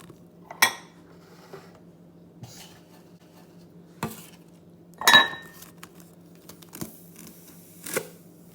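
A spoon scoops salt and taps against a container, giving sparse, sharp metallic clinks and knocks separated by quiet pauses, with one brighter ringing clink in the middle.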